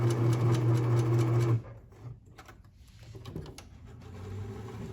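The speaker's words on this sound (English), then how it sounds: "I'm gonna hope my machine doesn't suck the fabric in" A sewing machine runs a zig zag seam along a fabric edge, humming steadily for about a second and a half before stopping, followed by soft handling noises and rustling of the fabric.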